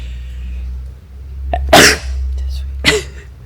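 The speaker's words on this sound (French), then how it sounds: "je vais éternuer" A single sharp sneeze bursts out close to the mic, followed moments later by a second breathy expulsion over a low steady hum.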